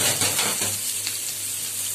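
Onion and green chili sizzle in hot oil for an athoo fry of Burmese noodles, giving a steady, bright crackling hiss that stays close and even from start to finish.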